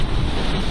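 Strong wind of 22 to 28 knots roars across the microphone over the broad wash of rough, choppy sea while sailing, a steady dense rumble without voices.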